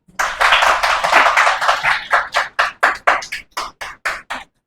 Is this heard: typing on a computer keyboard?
no